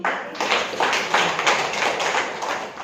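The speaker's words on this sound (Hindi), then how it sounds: "ठीक है, ताली तो बजाओ" A roomful of people at a Brahma Kumaris Rajyoga centre in Mahendranagar, Nepal claps in a loud, continuous, fairly even patter for nearly three seconds, close and without talk over it.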